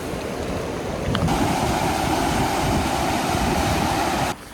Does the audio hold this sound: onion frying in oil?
no